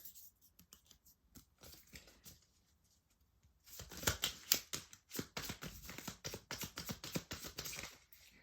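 Tarot cards being shuffled by hand, quiet soft rustling at first, then a closer, louder run of rapid riffling and flicking cards.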